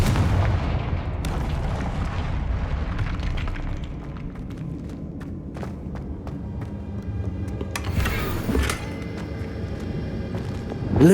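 A Confringo blasting spell explodes in the Hogwarts Legacy video game with a loud booming burst that rumbles and decays, followed by scattered crackles and a second sharp blast near the end.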